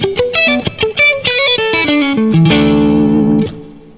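Guitar arpeggios outlining the melody of a song cover, quick plucked notes stepping through the chord progression with effects, then a sustained ringing chord that fades out.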